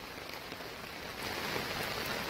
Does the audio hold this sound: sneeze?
no